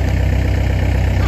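Tractor engine idling close by, a steady low rumble with a regular throbbing pulse that holds unchanged throughout, with no speech over it.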